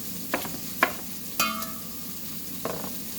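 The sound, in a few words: steak frying in a pan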